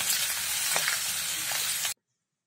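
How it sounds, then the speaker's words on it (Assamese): Pigeon meat sizzles steadily in a hot pan, a loud continuous frying hiss with a few soft stirring clicks, stopping abruptly near the end. "এয়া মই এনেদৰে ভালদৰে ভাজি ল'ম আগতে"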